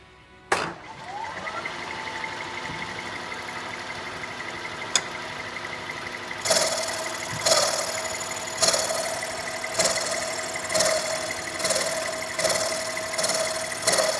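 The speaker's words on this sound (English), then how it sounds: "I'm just going to chop about 100 thousandths off the thickness of that flange" Bridgeport milling machine with an end mill taking a cut across the flange of a Jeep Willys L-134 manifold held in a vise: a steady motor hum, then from midway a rhythmic series of regular, fairly loud cutting bursts.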